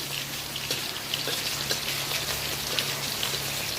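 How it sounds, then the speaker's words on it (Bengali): Whole spices and a torn bay leaf are stirred in hot oil over a very low gas flame, making a steady, soft crackling sizzle with scattered pops and light stirring clicks, with no talking. "লোতে আমি ফোড়নটা তেলের সাথে নেড়ে চেড়ে নিচ্ছি।"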